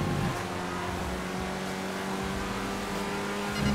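A car engine in GTA 5 drones steadily at high revs throughout, loud and close with a constant tonal hum, no talk over it.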